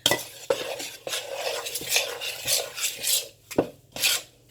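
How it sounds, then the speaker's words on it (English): Scone dough with dried fruit mixed in a bowl, a close series of scraping, rasping strokes with sharp utensil knocks against the bowl at an uneven rhythm, no talking. "now mix that. You don't want to have any more dry bits."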